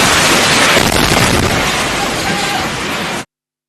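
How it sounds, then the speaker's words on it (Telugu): Bombing of a television studio at Iran's state broadcaster IRIB headquarters in Tehran, a loud, continuous roaring blast and rumble filling the room for about three seconds before cutting off abruptly. "భారీ పేలుడు శబ్దాలు రావడంతో ప్రత్యక్ష ప్రసారంలో వార్తలు చదువుతున్న న్యూస్ రీడర్ ప్రాణ భయంతో పరుగులు పెట్టింది"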